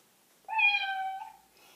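A person imitates a cat with a single drawn-out, nasal meow that rises quickly and then slides down, close and clear against a quiet background.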